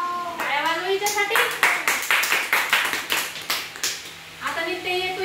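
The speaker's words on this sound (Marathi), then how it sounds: "टाळ्या वाजवा हिच्यासाठी" A few people clap their hands together in a quick, steady run of close claps for a child at home, with voices talking before and after.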